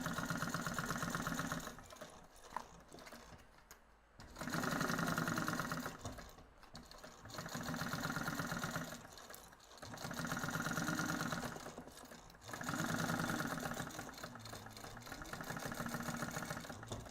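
A sewing machine stitching a seam with 3/8 seam allowance on a handmade beach bag, running in quiet repeated bursts of whirring and stitching, separated by short pauses.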